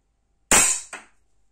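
A Crosman PFAM9B CO2 blowback airsoft pistol fires a single sharp crack with a second quick snap from the slide just after, close and loud against silence.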